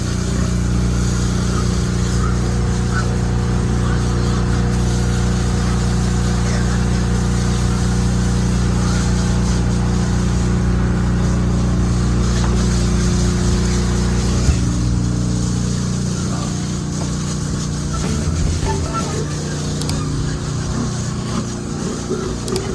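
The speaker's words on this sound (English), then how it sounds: "So basically the pump is on." A water pump on a pig farm in Jamaica runs with a loud, steady motor drone and a hum. The tone shifts and thins after about fifteen seconds but keeps going.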